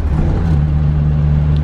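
A Škoda Favorit's engine drones in a low, steady hum from inside the car, a constant rumbling note while the driver downshifts, with no talking.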